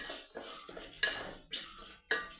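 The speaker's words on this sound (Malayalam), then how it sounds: "അപ്പോൾ ഞാനിവിടെ അരി വറുത്തുകൊണ്ടിരിക്കുകയാണ്." Rice is dry-roasted in a pan and stirred with a metal spoon, giving sharp scraping clinks at a steady pace of about one every half second, close and clear with no talk.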